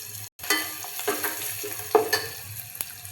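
Garlic and dried chillies fry in hot oil for sambar, giving a close, steady sizzle broken by a few stirring scrapes, after a brief gap near the start.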